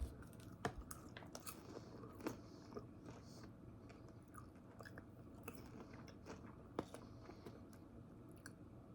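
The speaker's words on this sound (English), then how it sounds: "let's see how the vegan cheese popcorn tastes" Someone chews a mouthful of vegan cheese popcorn, close and quiet, with soft irregular crunches and bites repeating over steady low background noise.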